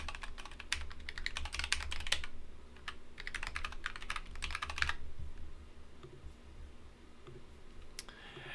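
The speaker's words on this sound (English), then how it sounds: "I won't even show you what I'm typing here because this is a quick one." Rapid typing on a computer keyboard during an AWS fault injection setup, dense bursts of clicking keys in two long runs with short pauses, then a quieter stretch ending in a single sharp tap.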